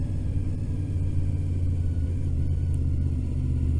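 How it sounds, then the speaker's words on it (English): A silver car approaches on a road, heard as a steady, fairly loud low rumble of engine and tyres that holds evenly throughout without any talking. "if I moved over for that silver car approaching"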